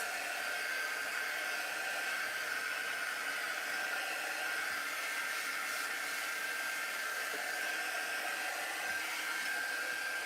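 A dryer blows steadily over spots on a craft project, an even, continuous whooshing hum with a high whine, close and unchanging throughout, with no one speaking.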